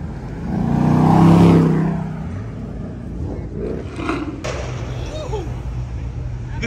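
A loud Ford Mustang Mach 1 engine roars close by, swelling and then easing off, followed by a steady rumble with voices and shouting over it, at a beach car meet.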